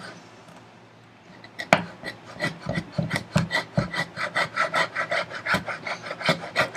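A small router cuts a wide dado in wood at a carpenter's workbench, making a close, rhythmic series of rasping, scraping strokes that quicken after a brief pause, with no speech.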